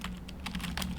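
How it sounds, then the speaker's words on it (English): Someone types on a computer keyboard while entering data in a spreadsheet, producing a short run of close, quick key clicks over faint background hum. "I'm going to type in number 2"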